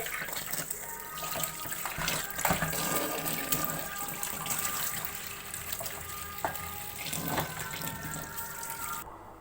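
Running water rinses a metal kitchen range hood filter being cleaned, a steady close splashing rush with clattering knocks as the filter is handled under the stream.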